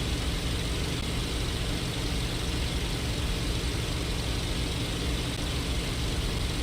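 Spitfire XIV aircraft engine in IL-2 Sturmovik, a steady, dense piston drone heard close and continuous throughout, with no breaks or changes in pitch.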